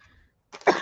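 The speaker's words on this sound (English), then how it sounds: "Well, I'm evidently going to cough." A single close, sharp cough bursts out after a brief silence, preceded by faint murmuring.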